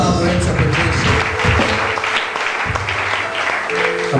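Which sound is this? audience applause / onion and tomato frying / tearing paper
audience applause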